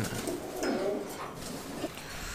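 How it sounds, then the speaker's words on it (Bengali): Black Danish pigeons at a fancy pigeon farm coo in low, throaty bursts nearby, a couple of rolling calls standing out over a steady background hum without any speech. "কালো ড্যানিশ কবুতর আমরা দেখতে পাচ্ছি।"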